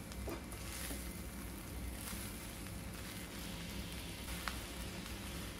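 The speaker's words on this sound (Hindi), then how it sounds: "तो देखिए मैं फटाफट दोनों हाथ से चला रही हूँ जिससे कि अच्छे से मिक्स हो जाए" Chicken egg fried rice being stirred and tossed with two spoons in a hot pan, a steady crackling sizzle throughout with a few faint scrape clicks, no talking.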